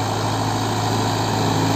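A Solis 65-24 CRDI tractor engine runs steadily in a field in Haryana, a loud, even droning rumble with a strong low hum and broad mechanical noise, close to the microphone and with no talk or change in pitch.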